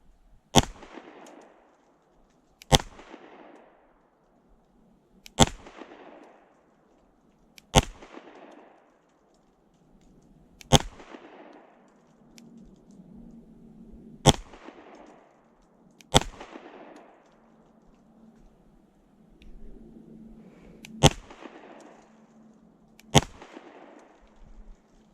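A CZ Shadow 2 Compact pistol fires nine sharp, loud shots at slow, uneven intervals of about two to three seconds, each crack ringing out with a short echo and no talking.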